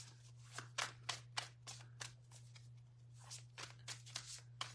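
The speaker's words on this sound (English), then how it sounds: "Oh, your keyboard." Rapid clicking of keys on a laptop keyboard, close and fairly quiet, arriving in uneven bursts with short pauses, alone over a steady low hum.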